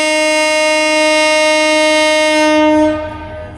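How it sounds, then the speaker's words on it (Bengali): A long, loud horn blast from the Upaban Express, a passenger train running from Sylhet to Dhaka at night, sounding as a sustained harmonic tone close by that cuts off near the end and leaves fainter rumble. "রাত 1:55-তে আমাদের ট্রেনের হুইসেল বেজে গেল।"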